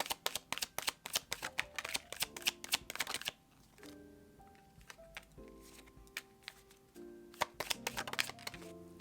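Tarot cards being shuffled and drawn by hand, a quick run of crisp riffling flicks, then a quieter pause, then more scattered card snaps close up, with faint music underneath.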